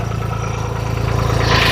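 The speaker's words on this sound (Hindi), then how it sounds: "अब भाई सबसे पहले स्टार्ट करेंगे न्यू हॉलैंड 3630 को।" A New Holland 3630 tractor engine runs nearby with a steady, throbbing low idle that rises slightly toward the end of the short stretch, heard alone without talk.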